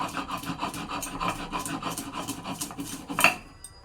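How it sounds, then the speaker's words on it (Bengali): Washed mustard seeds being ground on a flat grinding stone for a bean mash, a steady rhythmic scraping and rubbing with quick regular strokes, close and moderately loud, ending with a sharper knock before it fades. "এখন প্রথমে আমি এটাকে একটু বেটে নিচ্ছি"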